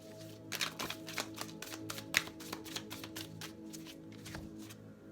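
Tarot cards riffled and shuffled in a quiet room, a run of crisp papery flutters and taps in quick bursts over about four seconds, close and moderately loud with no voices.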